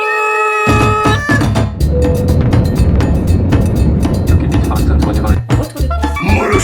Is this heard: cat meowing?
yes